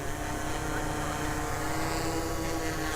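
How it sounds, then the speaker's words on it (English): A helicopter flying overhead, its rotor and engine giving a steady, loud droning roar that fills the whole stretch without letting up. "oh hello helicopter"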